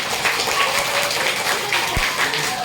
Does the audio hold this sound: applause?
yes